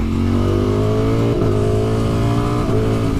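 A 2020 Ducati Streetfighter V4 engine with its standard exhaust revs loudly and continuously nearby, its pitch climbing, dropping briefly at two gear shifts, then climbing again.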